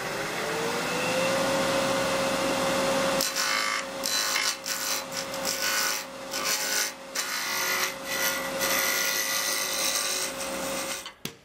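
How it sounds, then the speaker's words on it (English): A wood lathe turns a square blank into a cylinder, giving a steady loud scraping and rasping of tool on spinning wood. A constant motor whine runs underneath. Sharper, uneven cutting bursts begin after the first few seconds. "The first thing I'll do on the lathe is turn the square piece into a cylinder."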